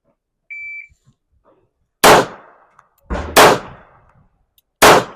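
Three loud, sharp handgun shots ring out on an outdoor range drill, spaced over about three seconds with a brief electronic timer beep before them and short echoing tails after each crack.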